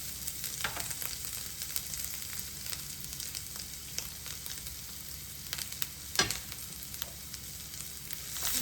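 Shrimp fry with garlic and ginger for a Schezwan dish, a continuous mid-level sizzle broken by occasional clatters and scrapes of stirring in the pan.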